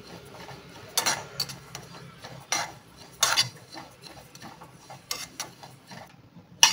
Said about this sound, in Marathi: आता जिरं आपलं छान असं परतून झालं आहे.